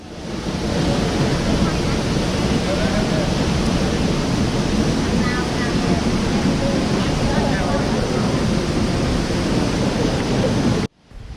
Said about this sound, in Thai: น้ำตกเหวนรกอุทยานแห่งชาติเขาใหญ่